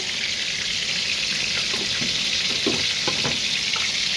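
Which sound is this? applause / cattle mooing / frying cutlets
frying cutlets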